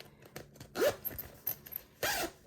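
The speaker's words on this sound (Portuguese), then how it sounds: "ele sempre fecha da direita para a esquerda. Então, a minha bolsa vai estar pronta aqui" A zipper on a handmade fabric canteen-style bag is pulled closed, giving a few short rasping zips among soft fabric rustles and handling noises at close range, with no talking.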